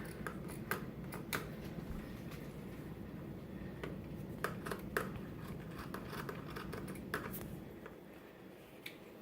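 Scissors snipping through a fleece blanket to cut a square from its corner, a steady run of soft crisp cuts with sharper clicks of the blades, close and fairly quiet, with no talking.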